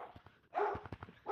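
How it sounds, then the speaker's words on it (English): A dog gives a few short, close barks and yips in quick succession, heard alone in a quiet indoor room. "Who's barking?"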